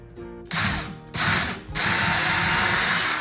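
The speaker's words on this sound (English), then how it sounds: "Go ahead and just drill the pilot hole." Two short bursts of a power drill biting into wood to make a pilot hole for a drawer front, then a longer steady run of drilling, loud and close.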